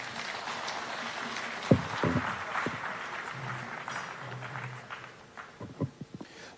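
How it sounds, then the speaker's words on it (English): An audience at a public event in Ghana applauds the Country Director of Plan International Ghana, producing a steady, moderate wash of clapping with a few sharper thumps and knocks scattered through it. "Round of applause for Constant Chona, the Country Director, Plan International Ghana"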